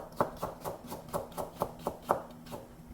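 A knife chops carrots on a cutting board with about ten evenly spaced, crisp strokes, close and fairly quiet. A faint background hum runs beneath them.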